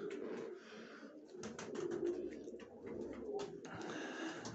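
Pigeons in a winter loft, several birds cooing softly in overlapping low murmurs, with a few brief rustles and wing flutters, close by and with no voices.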